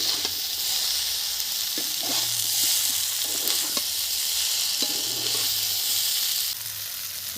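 Potato, broccoli, radish and eggplant fry in hot oil, giving a loud, steady sizzle and hiss punctuated by occasional clinks and scrapes of stirring.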